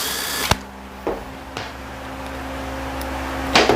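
A power tool backs out the range sensor bolts on a Ford 5R55S automatic transmission under repair, giving a steady close mechanical whir punctuated by several sharp bursts and clicks as each bolt is engaged.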